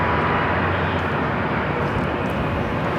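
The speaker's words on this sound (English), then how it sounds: "This Frontier flight now rolling down to 24 left, heading to Phoenix, Arizona." Frontier Airlines A320neo airliner at LAX rolling down the runway for takeoff, a steady loud broadband engine roar that holds evenly throughout with no talk over it.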